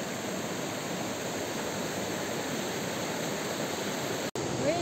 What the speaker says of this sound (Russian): Мы идем к Софийским водопадам. Вот они, перед нами.